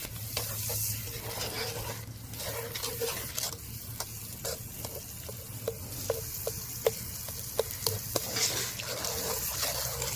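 A spoon stirs apple dumpling mixture in a Dutch oven at an outdoor camp kitchen, with repeated scrapes and light knocks over a constant hissing background.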